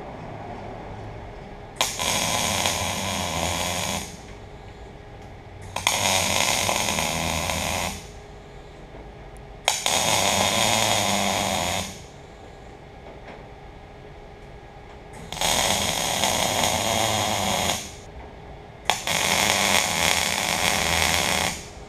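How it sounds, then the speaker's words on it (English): Tack welding a sheared metal sheet onto steel produces five separate bursts of harsh crackling buzz, each lasting about two seconds with short gaps between them. The sound is loud and close, with a low hum in the background and no voices. "what I'll do is I'll begin tack welding it on."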